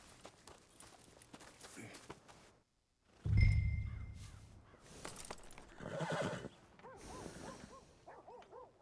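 A horse whinnies in Red Dead Redemption, a rising then wavering neigh that follows a low thump and rustle, with light hoof-like steps and scattered game noise around it.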